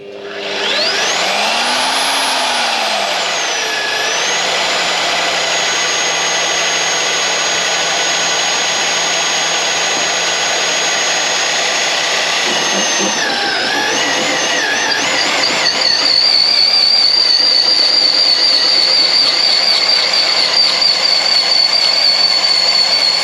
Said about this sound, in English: let's try this bigger drill